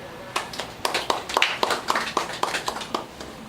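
A small class at a driving school theory lecture claps for a student, a short burst of distinct, uneven hand claps from a few people, moderately close and fairly quiet.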